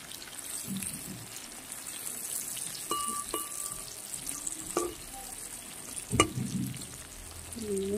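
Pointed gourd (potol) fries in oil, with a continuous close sizzle, occasional scrapes and clinks as the pieces are turned, and a louder knock near the end.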